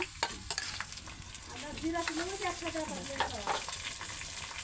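Ginger is stir-fried in oil in a pan, giving a close crackling sizzle with scraping spatula strokes. A faint voice murmurs briefly in the background.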